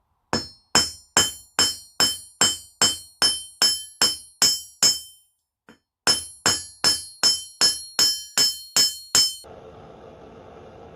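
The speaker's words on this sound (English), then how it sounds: "And start hammering on the flat side." Sharp, ringing metallic hammer blows on a hot mild steel arrowhead in a steady rhythm, about twenty strikes close up, with a brief pause midway and a quiet hiss after the last.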